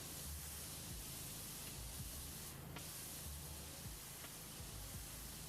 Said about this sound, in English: I'm over here spraying the air while trying to look around.